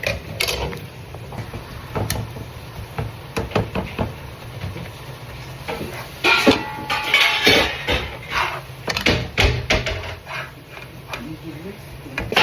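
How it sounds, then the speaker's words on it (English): Ground beef cooking in a pan is mashed with a potato masher, giving repeated soft knocks and scraping clatter at an uneven rhythm over a steady sizzle, close and moderately loud. "So I like to use a potato masher, and we're just gonna mash that up to really help ground the beef more"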